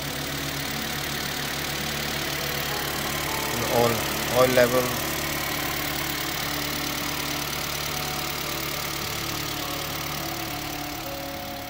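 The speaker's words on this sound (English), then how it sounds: "So car engine is running right now," A 2010 Toyota Voxy 2.0 automatic idles steadily and quietly as a low, even engine hum, while someone talks over it throughout.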